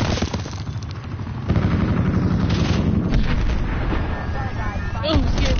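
Heavy bursts of video game gunfire from a turret and pistols roar almost continuously, with rapid shots and blasts layered together, while players talk over the noise.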